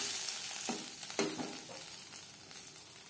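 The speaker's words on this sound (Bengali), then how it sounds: "ফোড়নের জন্য দিয়ে দিলাম 3টে শুকনো লঙ্কা।" Three dried red chillies, broken into pieces, fry in hot oil for tempering a Bengali dal, a steady close sizzle with a few sharper crackles and pops rising out of the hiss.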